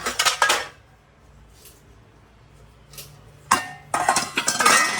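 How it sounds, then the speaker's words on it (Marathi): Metal pots and dishes are stacked and arranged in a home kitchen: bursts of clattering and clinking at the start and again toward the end, separated by a short near-silent pause with two faint knocks. "एवढे सारे भांडे मला लावायचे"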